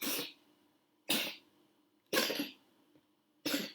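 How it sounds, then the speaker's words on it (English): Four separate coughs, close by and evenly spaced about a second apart, each a short rough burst followed by quiet. "it's just coughing up"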